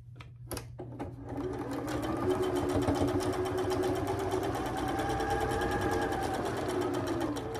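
A sewing machine stitches steadily down one side of a pieced quilt block, a loud continuous motor whir with rapid needle chatter that starts after a few faint clicks and runs unbroken to the end.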